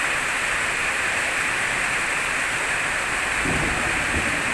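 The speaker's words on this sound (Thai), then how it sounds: "หลังจากเห็บตกฝนก็ตกแล้วค่ะพี่น้อง" Steady rain pouring down after a summer hailstorm and strong winds in Sakon Nakhon, a dense continuous hiss with no voices, holding constant throughout.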